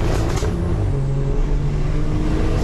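A stage 4 big turbo BMW M140i accelerating hard, a loud, dense engine roar with broadband turbo rush filling the cabin continuously, no voices over it.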